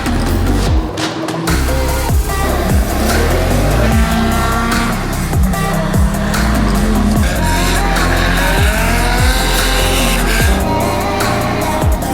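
Toyota AE86 cars at the 86 Fest car event in Ireland, engines revving and driving past loudly and continuously, with repeated passes and tyre squeal over a busy, dense backdrop.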